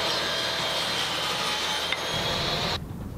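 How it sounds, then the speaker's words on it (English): A power saw cuts wooden picture frame pieces to length in a workshop, giving a steady loud whine that holds for nearly three seconds before it abruptly stops and leaves a quieter hum. "Now I'll just cut the remainder of the pieces to length"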